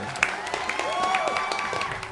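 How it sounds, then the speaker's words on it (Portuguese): Canned applause and cheering played as a sound effect in a Portuguese-language Magic card game podcast, a short burst of clapping crowd with whoops and bright tonal sweeps over it. "uma salva de palmas aí pro nosso desempenho."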